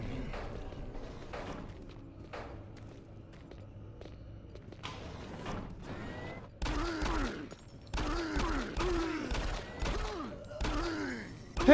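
Gunfire in the VR shooter Doom 3, sharp echoing shots in an uneven run that grows louder in the second half, with someone talking and ambient game noise underneath.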